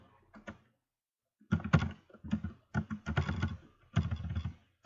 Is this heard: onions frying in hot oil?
no